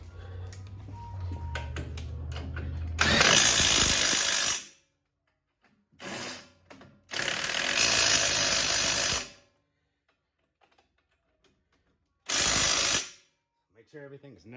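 A Ryobi power tool, likely an impact driver, works on the caliper bolts of a 2015-2020 GMC Canyon or Chevy Colorado with quad-piston calipers. Loud whirring bursts start and stop several times, with quieter sounds between.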